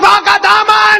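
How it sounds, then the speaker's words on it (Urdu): A crowd chanting a religious slogan in unison at an Islamic gathering, four loud, close, rhythmic shouted syllables in quick succession, voices massed together with no other sound. "ایک آواز سے بولو مصطفیٰ کا دامن"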